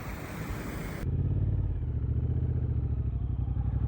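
A Triumph Bobber motorcycle fitted with British Custom Sleeper Pro exhaust pipes, its engine settling into a steady, close, throbbing rumble while riding, with no talking over it.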